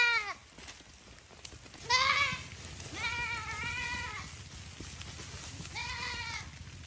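A goat bleats several times in wavering, nasal cries, grazing in the open before a Komodo dragon confronts it. Calls come in separate bursts over low background noise.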